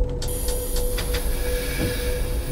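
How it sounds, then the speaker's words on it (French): A simulated train pulling away from a signal in a train simulator game on a rainy day, with a steady rail rumble and low hum, faint wheel squeal and a few soft clanks near the start. "Et voilà, nous avons le signal pour partir."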